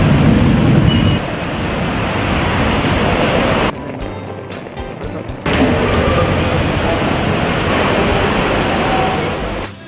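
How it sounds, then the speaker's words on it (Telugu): Heavy early monsoon rain in Kerala pours down as a loud, dense hiss, cut by a brief quieter break midway before the full downpour returns. "కేరళలో వర్షాలు దంచుకొడుతున్నాయి."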